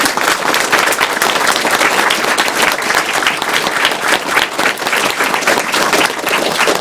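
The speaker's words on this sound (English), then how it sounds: "So a big round of applause for her." Loud, sustained applause from a large crowd at the close of the Awesome Games Done Quick 2013 speedrunning marathon, dense clapping with some cheering mixed in, continuing strongly for nearly seven seconds.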